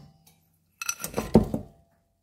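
Melted butter and powdered sugar being mixed in a bowl, heard as a short burst of scraping and clinking of utensil against the bowl, fairly close and alone.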